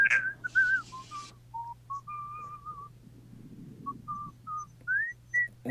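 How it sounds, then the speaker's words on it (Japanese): A person whistles a slow, wavering tune in short separate notes, close and clear over a faint steady hum. "口笛吹き始めたぞ"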